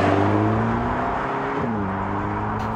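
A 2-liter Mercedes-AMG A 45 S, the 2023 facelift rated at 421 horsepower, runs close up with a steady engine drone. A tone briefly dips and climbs again near the middle. No one speaks.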